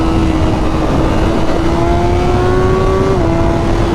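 A Zero DSR/X electric motorcycle accelerates hard on a motorway, its motor whine climbing steadily in pitch over loud, constant wind roar, then stepping down briefly near the end.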